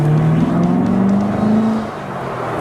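A sports car engine revs deeply and loudly close by, a low sustained roar that climbs slightly in pitch before easing off, with no talking over it.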